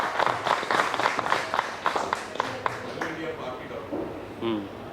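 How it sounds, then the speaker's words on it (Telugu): An audience applauds to launch a political party's official website, a dense burst of clapping that fades after a few seconds, with voices audible underneath. "ఒకసారి మనం చప్పట్ల ద్వారా దాన్ని లాంచ్ చేస్తున్నాం"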